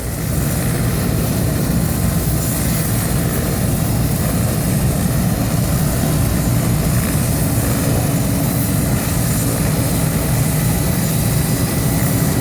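A medical helicopter approaching a motorcycle crash scene on a rural road gives a loud, steady rotor-and-engine roar that fills the whole stretch without a break, close and constant, with no one speaking.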